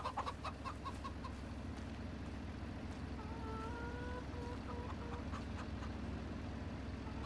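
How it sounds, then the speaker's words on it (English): A rooster and hens on a farm in Farming Simulator 25 cluck steadily, with a few short bursts of clucking and a brief crow-like call in the middle, all over a constant low ambient hum. "Now I've got a rooster, I'm sure of it."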